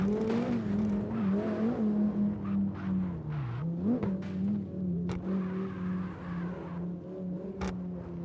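A Lamborghini races in a video game, its engine holding a steady mid-pitched drone that dips and surges briefly as it shifts, with occasional sharp ticks over the continuous roar and no talk.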